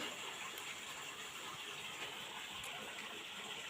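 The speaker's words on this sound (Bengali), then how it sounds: "এই ভেতর থেকে জল বয়ে আসছে আশা করি আওয়াজ পাচ্ছ সবাই" Water gushing steadily out from between rocks at Belpahari, a continuous close rushing flow with no pauses and no voices over it.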